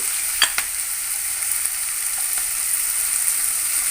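Kovakkai (ivy gourd) stir-fry being stirred in a pan, with a steady high sizzle of frying and a couple of brief scraping knocks from the spoon, heard alone with no talking.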